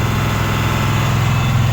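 Navistar VT365 diesel engine held at roughly 2,500 RPM at about half throttle or more, a steady loud low drone with a pulsing rumble that runs without a break.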